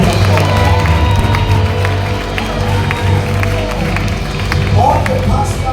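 Congregation in a church clapping and cheering for a preacher, loud rhythmic hand claps with whoops and crowd noise over a low sustained musical backing.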